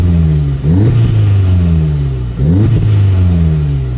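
Inside the cab of a car with its exhaust resonator deleted, the engine drones loudly and is revved twice, each blip swelling and dropping back to a heavy idle.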